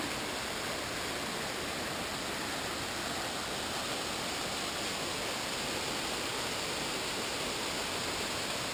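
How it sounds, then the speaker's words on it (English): A constant roar of a hillside waterfall in Oregon's North Coast forest, broad and hissing, steady without change from start to finish. "I made it back up to the waterfall"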